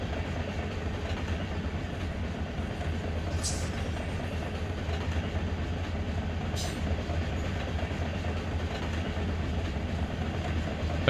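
Freight train rumbling steadily in the Run 8 Train Simulator game, a continuous loud drone of engine and rolling cars with two brief high squeals, under someone speaking.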